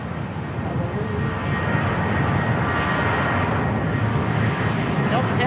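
A Southwest Airlines jet at Sky Harbor Airport gives off a loud, steady engine roar that holds constant throughout, heard from the ground at moderate distance.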